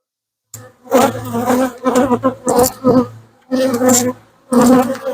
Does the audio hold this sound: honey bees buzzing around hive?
yes